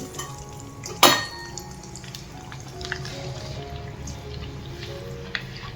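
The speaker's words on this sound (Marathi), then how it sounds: "आपण आता ही चकली तळून बघूया" Potato and sago chakli fry in hot oil with a steady, soft sizzling hiss, broken early by one sharp metallic clank of a utensil against the pan.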